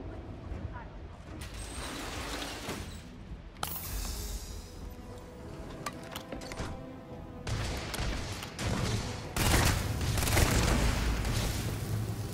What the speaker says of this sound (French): Il a lancé une grenade là.